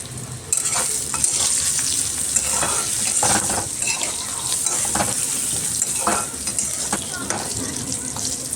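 Spices with turmeric and salt fry in a pan with a steady, close sizzle, broken by repeated scraping stirs of a spoon against the pan throughout.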